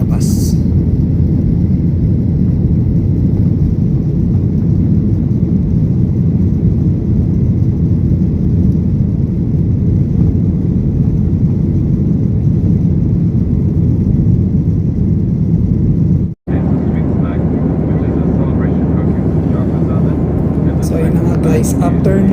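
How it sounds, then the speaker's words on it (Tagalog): Strong wind and heavy rain outside a vehicle on the road toward Toronto, Canada, a loud steady broadband roar with low rumble that continues without a break, briefly cutting out near the end. "makikita nyo na sobrang lakas nung hangin at ulan sa labas."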